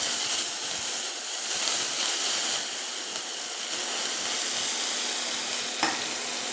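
Mutton keema with garlic paste sizzling in a pan, a dense continuous frying hiss with faint stirring movement throughout and one small clink near the end, no talking.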